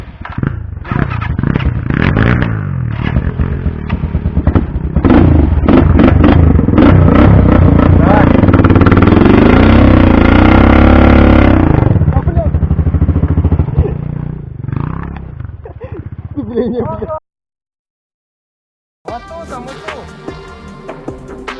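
Motorcycle on a city and forest ride, its engine roaring loud and close with rising revs, mixed with clatter and voices, then dropping away into a brief silence before a different busy stretch.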